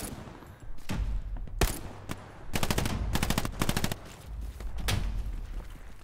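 Gunfire in the WW2 shooter Hell Let Loose: rapid machine-gun bursts and sharp single shots crack close and loud, with a rattling fusillade in the middle.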